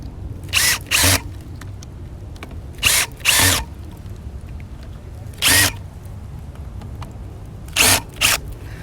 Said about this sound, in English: I'm gonna use the drill. Make this thing faster.